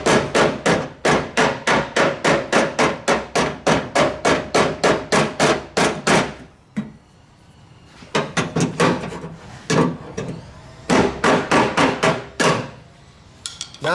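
Hammering out the door latch pins on a 1973 Oldsmobile 442 driver's door: a fast run of loud, evenly spaced metallic strikes, a short pause, then further irregular blows picking back up into another rapid burst.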